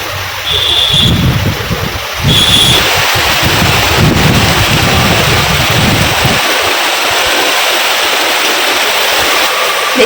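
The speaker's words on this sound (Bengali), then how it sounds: "বৃষ্টি পড়া শুরু হয়ে গেছে।" Rain falls in a steady broadband hiss through the whole stretch, with gusty wind rumbling low for the first several seconds before easing, and a couple of brief high tones early on.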